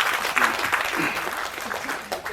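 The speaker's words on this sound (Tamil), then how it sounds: "அவருக்கு முதல்ல ஒரு நல்ல கைத்தட்டு கொடுக்கணும்னு நான் எப்பவுமே ஆசைப்படுவேன்" Audience clapping at a Tamil launch event for a new OTT platform, a short burst of applause with voices and murmuring mixed in underneath.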